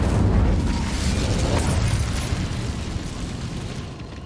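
A fiery burst from the Incendio spell in Hogwarts Legacy erupts as a loud, rumbling whoosh that slowly fades over a few seconds, with no talking.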